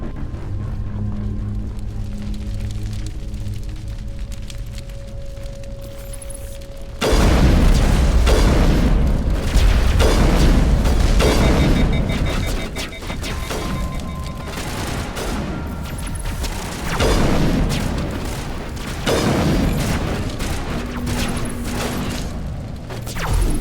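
A heavy explosion booms suddenly in Mass Effect Legendary Edition, loud and close, followed by rumbling combat blasts and game sounds with no talking.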